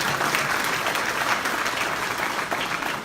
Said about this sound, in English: Let's have a big round of applause for what they've done here tonight.